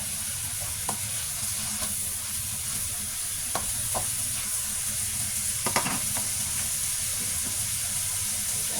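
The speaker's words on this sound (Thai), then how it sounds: "ผัดพริกกับกระเทียมก่อนมันกลิ่นมันจะฉุนมากเลยจ้ะ" Chili and garlic stir-frying in a hot pan for Thai pad kaprow, a loud, continuous close-up sizzle and hiss broken by occasional scraping clicks of a spatula, with no talking.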